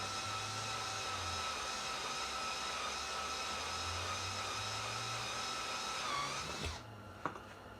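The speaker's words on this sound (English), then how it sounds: "I already pre-drilled some holes just for starts, and now we're just going to finish the job." A power drill whines steadily at high pitch while boring rivet holes for a universal spark arrestor, then spins down and stops, followed by a faint click in the quiet.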